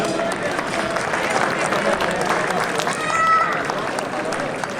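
An audience at a New Year's Day village event breaking into applause: steady, dense clapping from a crowd filling the whole stretch at moderate level, with no voices standing out.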